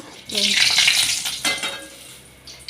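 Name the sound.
bay leaves frying in oil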